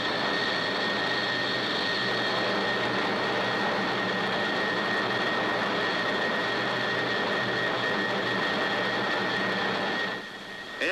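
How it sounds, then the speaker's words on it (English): Jet aircraft in flight beyond critical Mach, buffeting: a loud, continuous broadband roar with a steady high whine running through it, holding constant before dropping off near the end. "soon after M crit is exceeded, the aircraft starts to buffet violently"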